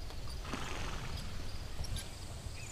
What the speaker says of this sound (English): And this is my horse, Herman.